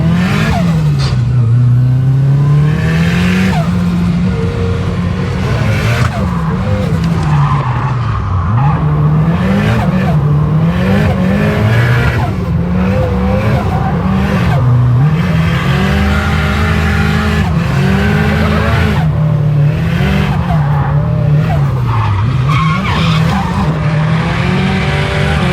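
A 300-horsepower rear-wheel-drive Mitsubishi EVO drifting, its engine revving constantly with rising and falling pitch, turbo noises and sustained tyre squeal and skidding, loud and close throughout.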